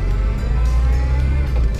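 A car engine revs loudly and steadily at close range, a low throaty drone with slight surges, running alone without speech.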